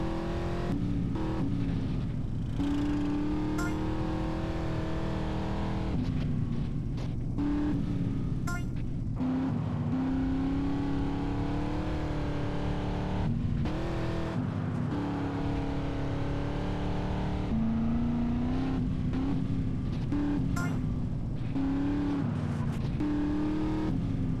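A car driving in the video game Grand Theft Auto: San Andreas, its engine droning at a steady pitch that rises and falls as it revs and shifts, staying loud and continuous with no voices over it.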